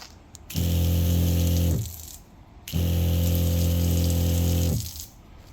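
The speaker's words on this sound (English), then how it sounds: "now you can hear the pressure switch is working" A SEAFLO water pump cycles on and off under its pressure switch, a loud steady motor hum running about a second and a half, stopping briefly, then running again for about two seconds before cutting out.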